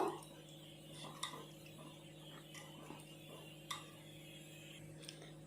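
A spoon knocks softly against a pot while Dharmasthala temple-style tili saru, a thin brownish rasam, is stirred, giving faint, sparse clinks over a low steady hum.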